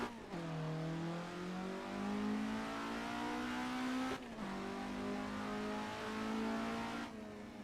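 Alfa Romeo engine revving hard on the Nurburgring circuit, a loud, close, sustained drone climbing in pitch through two long pulls, with a brief dip between gear changes and no talk over it.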